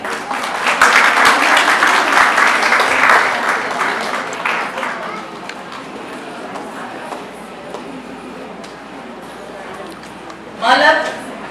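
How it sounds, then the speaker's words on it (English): Mothers clapping and cheering for their children at a Grade 3 graduation ceremony, a loud burst of applause that gradually fades to scattered claps, with a brief high-pitched cheer near the end. "Mothers, please cheer your children."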